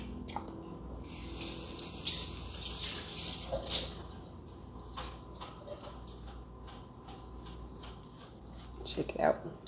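A kitchen tap runs steadily while vegetables are rinsed under it, a continuous hissy water stream with small clatters and handling sounds, fading out near the end as the flow stops.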